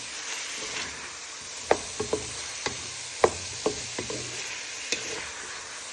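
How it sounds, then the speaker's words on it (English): Sweet and sour pork stir fry with pineapple in a pan, a soft steady sizzle with several distinct knocks and scrapes of a utensil stirring, close and fairly quiet. "Now you want to place in all your pineapple. And then you give this all a gentle stir."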